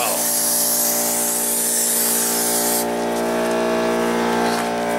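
Loud, continuous hiss of a paint spray gun spraying a rat rod car, with a steady mechanical hum underneath, running without pause throughout.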